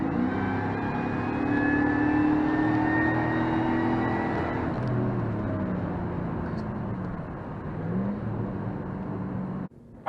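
A supercharged Cadillac Escalade with an aftermarket muffler accelerates at full throttle, its engine drone climbing steadily in pitch for about five seconds, then holding a loud, sustained roar that cuts off abruptly near the end.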